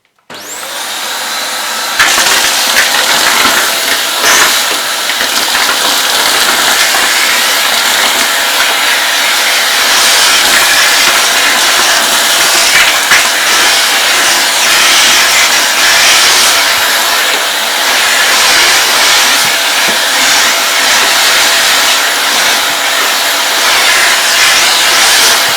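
A Vax U88-AM-Te Air 3 Total Home upright vacuum cleaner picking up dirt, a loud, steady, close motor roar that starts abruptly and holds constant throughout with faint rattles of debris.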